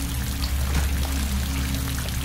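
Rushing water in the Estranged Act 1 video game, a steady broadband wash with a low hum beneath, continuous and fairly loud for the whole span with no talking.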